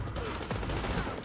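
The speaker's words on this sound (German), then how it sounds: "Ballerei, hey, Schießerei." Dense gunfire from a co-op shootout in the video game The Division, a sustained rattle of shots filling the short moment with no pause.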